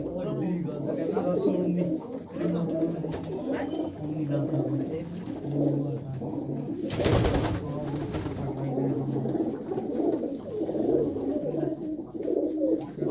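Pigeons coo steadily at a loft in Mullanpur Kalan near Mandi Gobindgarh, a soft repeated low cooing that runs throughout while someone talks over it.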